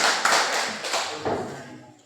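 Classroom clapping, a short burst of group hand claps in an Indonesian lesson about brick-making, fairly close and steady, fading out over about two seconds.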